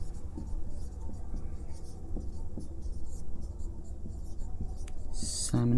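Marker or chalk strokes on a board during a Hindi physics lesson on concave mirror images, scratching steadily in short repeated strokes over a constant low room hum, with a louder knock at the end.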